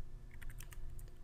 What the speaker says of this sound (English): In the To box, you can either type the email of the person you wish to send an email to